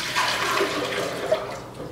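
Water poured into a bowl of powder for raw vegan savory crepe batter, a short close splashing gurgle that swells briefly and tapers off.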